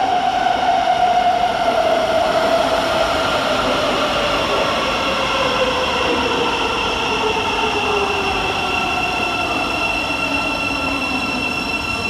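A Thameslink train rolls into London St Pancras station with a loud, steady rumble and high squealing wheels that slowly drop in pitch as it slows.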